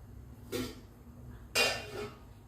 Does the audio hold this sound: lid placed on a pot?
yes